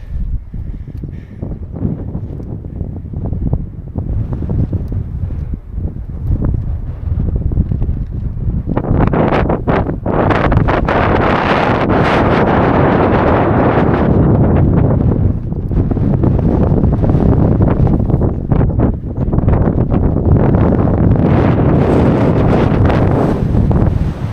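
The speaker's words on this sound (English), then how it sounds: "it's windy up here" Strong wind roars and buffets the microphone on an open moorland hilltop in Scotland, building from gusty rumbles into a loud, sustained blustery rush.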